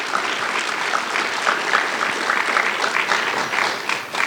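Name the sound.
audience applause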